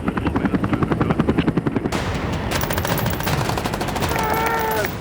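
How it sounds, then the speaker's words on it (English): Rapid gunfire rattles during a mock beach landing, heard from inside a vehicle or aircraft under a steady rotor-like thrum, then muffled after a door shuts, leaving a dull rumble with faint high whistles. "That gunfire can be quite loud"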